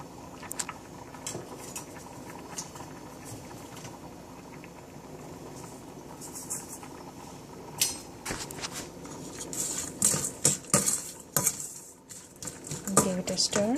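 Onions stirred in a cooking pot for an oil-free black-eyed bean dish: soft scraping, clinks of a spoon against the pot and light patter, growing busier toward the end, with a voice talking throughout.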